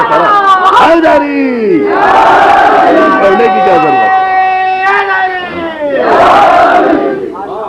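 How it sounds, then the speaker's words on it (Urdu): Large religious gathering chanting slogans in praise of Mola Ali, loud massed voices rising in sustained chorus waves, with a speaker's voice heard over the crowd. "آپ مولا علی کے نعرے لگاتے ہیں"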